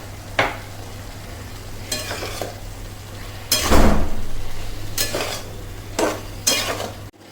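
Several loud scraping strokes of a spoon stirring dill leaf sabji in a pan on low heat, each sweep a rough, close swish with one longer stir midway, over a faint steady hum.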